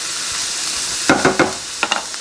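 Vegetables sizzling in a pan, a constant bright hiss with a cluster of clattering stirring knocks in the middle and a few more near the end, close by.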